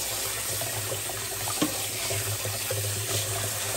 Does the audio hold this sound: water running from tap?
yes